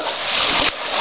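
A person jumps into water with a loud, close splash that sprays for most of a second and then cuts off sharply.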